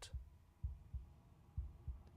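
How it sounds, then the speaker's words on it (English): Slow, muffled heartbeat in the quiet video game Slay the Princess, low thumps arriving in paired beats at a steady looping rhythm, fairly faint and alone with no talk. "Oh, I can hear the heart beating."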